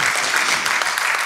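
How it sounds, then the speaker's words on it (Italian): An award ceremony audience claps steadily as a dense wash of applause, loud and continuous through the short stretch. "Intanto farei un applauso per questo curriculum"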